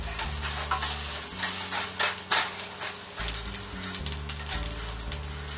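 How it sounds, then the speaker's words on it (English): Fideo pasta toasts in a pot on a steady sizzle, with repeated scraping stir strokes up close and a low hum underneath, and no speech. "it's important that you keep stirring the pasta as much as you can, because you don't want it to turn too black"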